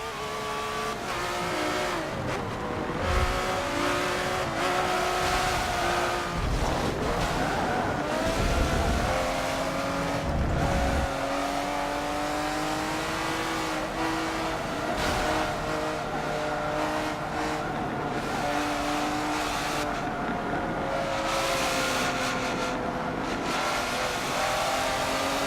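A Lamborghini race car in Forza 7 howls steadily through a league race, its engine pitch climbing and dropping through gear changes, with occasional tire squeal, loud and continuous with no talking.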